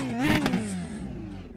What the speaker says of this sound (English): You get that raspy, tinny noise out of the exhaust.